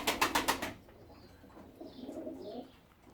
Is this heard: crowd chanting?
no